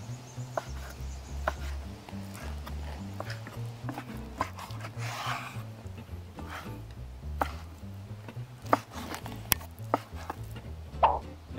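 A knife chops boneless salmon into small cubes on a cutting board, steady close taps repeating in an even rhythm with a few sharper knocks near the end.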